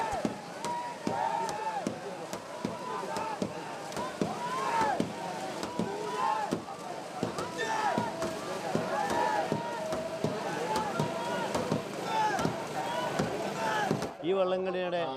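Small racing boats compete in the Pamba boat race in Kerala, oars striking the water in rapid rhythmic strokes under loud crowd noise and chanting, with a voice speaking over the scene.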